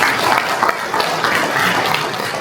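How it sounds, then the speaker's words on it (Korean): Forum audience applauding at the 7th Cheonma Construction Forum in Korea: a steady, dense wash of clapping hands that fills the room, loud and even for the whole stretch, with no voices on top. "네, 다들 박수 한번 부탁드리겠습니다."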